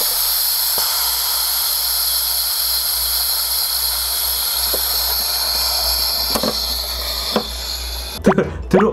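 Carbonation gas hisses steadily as it is injected into bead ice cream, a loud continuous spray lasting several seconds, with faint clicks and a few sharp bubbling pops near the end.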